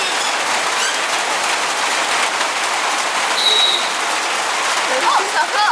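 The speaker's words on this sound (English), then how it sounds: "To be caught really out of the blue very suddenly by the rain." A sudden outdoor rain shower in Kaziranga, Assam: steady, dense hiss of rainfall on surfaces that holds at an even loudness throughout, with faint thin tones and small sounds scattered over it.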